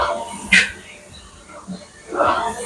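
Dogs in a home rowing workout room give a couple of short yips and whimpery barks, close by, separated by quieter moments.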